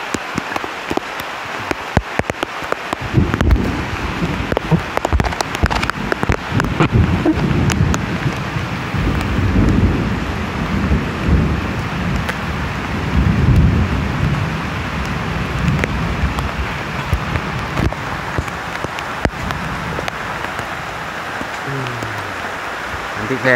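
Heavy rain pours steadily on a forest with low thunder rumbling through it, a dense continuous wash that is loud and close, with people's voices occasionally heard beneath.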